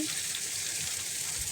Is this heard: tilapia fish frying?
yes